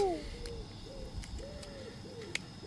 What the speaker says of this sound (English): Next, the pigeons.